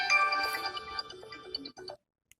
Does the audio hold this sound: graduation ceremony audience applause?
no